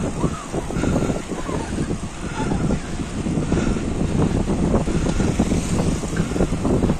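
A boat motor drones steadily across the whole stretch under wind buffeting and splashing water, loud and close, with broadband rumble and no clear speech.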